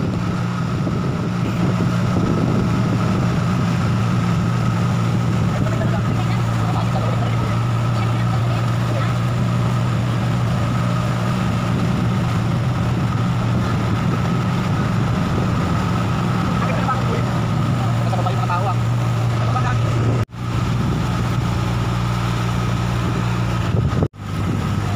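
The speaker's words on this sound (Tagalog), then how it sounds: "Itong bangka na to mabilis." A motorboat engine drones steadily throughout on the water near Inasakan beach, San Jose, Occidental Mindoro, a constant low hum with wind buffeting the microphone, and brief dropouts near the end.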